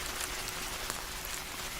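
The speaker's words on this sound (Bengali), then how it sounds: "যে বৃষ্টি শুরু হয়েছে জানি না কবে ছাড়বে" Rain falls steadily on a stormy, windy village day, a soft continuous hiss of drops with no breaks and no voices.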